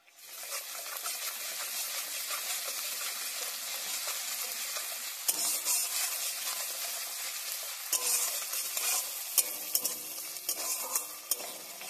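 Two cardamom pods, two cloves, two cinnamon sticks, chopped onion and ginger-garlic paste frying in oil, a steady bright sizzle throughout with a sudden surge as ingredients go in and occasional light clinks of a utensil.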